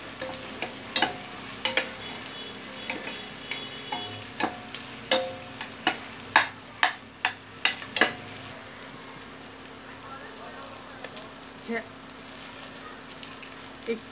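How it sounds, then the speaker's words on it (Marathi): Finely chopped onion fries until golden for pav bhaji, a steady sizzle with a series of rhythmic sharp scraping strokes of a spatula during the first eight seconds, then a quieter sizzle alone. "कांदा पूर्ण गोल्डन होऊ द्यायचा याच्यावर अगदी."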